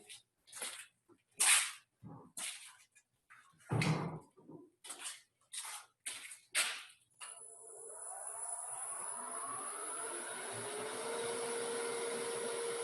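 Maple turned on a wood lathe during finishing cuts on tear-out-prone stock: a few short scraping bursts, then a steady, close whirring rasp of the tool cutting that holds for several seconds.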